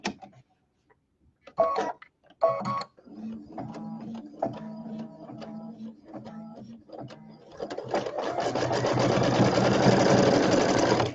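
An embroidery machine sews out a quilt block, beginning with scattered clicks and short whirring bursts and then settling into a loud, continuous rapid stitching whir heard up close.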